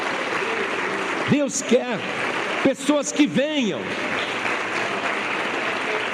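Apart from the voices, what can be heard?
church congregation applauding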